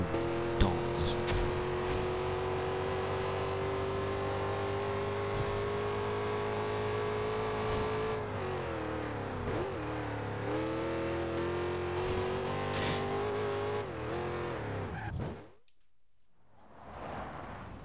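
Cars roaring past speed traps in the racing video game Forza Horizon, a loud sustained engine drone with rising and falling revs and gear shifts, cutting to near silence before another engine fades in at the end.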